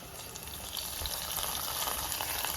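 Hot tempering of curry leaves and dried red chillies poured into a Kerala-style potato curry hisses into a steady, loud sizzle that keeps building, with no voices over it.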